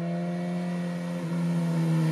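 A Suzuki Katana motorcycle with an Akrapovič exhaust, a steady, close engine note with a strong low hum that rises slightly toward the end as it revs.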